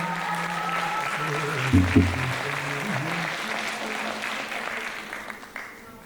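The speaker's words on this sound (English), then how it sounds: "start off with a big round of applause" Applause from the audience at an Indian classical dance arangetram, a steady, moderate wash of clapping filling the hall, with a few louder bursts near the middle and a held musical tone underneath.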